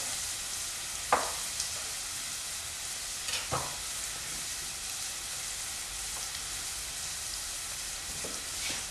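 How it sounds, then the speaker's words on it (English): Onions and garlic frying in olive oil in a pan for risotto give a steady close sizzle, broken by a few sharp scraping stirs of a spoon against the pan. "Give it a stir."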